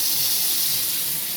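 Tap water runs steadily into a grinder jar as it is rinsed, a close, continuous rushing and splashing with no talk.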